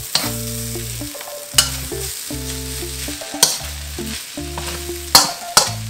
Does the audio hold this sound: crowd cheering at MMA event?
no